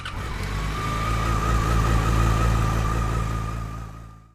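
A Royal Enfield Interceptor 650 motorcycle engine hums steadily while riding, a smooth mid-pitched drone with a whining tone, swelling slightly then fading out near the end.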